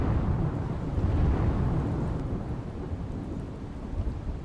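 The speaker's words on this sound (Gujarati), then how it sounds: "બોટાદમાં ભારે પવન સાથે વરસાદ વરસ્યો" Heavy rain lashes down in a steady, dense roar, driven by strong wind, with low thunder rumbling through it; the sound stays loud and continuous, no voices.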